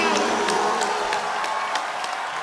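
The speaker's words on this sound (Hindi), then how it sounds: "जोरदार तालियां।" A studio audience at a comedy talk show cheers and applauds the arrival of guests, steady dense clapping with some whoops, loud and continuous throughout.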